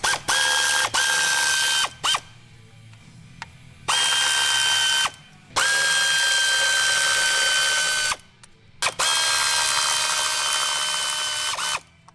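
A ratchet with a spark plug socket loosens a spark plug on a Nissan Pulsar GTI-R engine, giving loud, close bursts of whirring, clicking mechanical noise in four long runs broken by short pauses.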